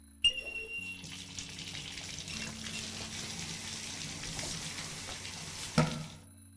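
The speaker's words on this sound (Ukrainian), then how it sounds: "якщо бризнути йому в обличчя холодною водою" Water gushes from a sink tap in a video game, starting with a click and running steadily for several seconds before shutting off with a clunk, close and moderately loud.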